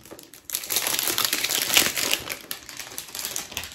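A Chanel parcel is unwrapped, its packaging crinkling and rustling continuously for several seconds, close and fairly loud, starting after a brief quiet moment.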